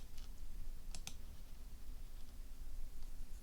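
Keys on a NumWorks calculator are pressed in a few soft, sparse clicks, faint and close, spread over a quiet background hiss.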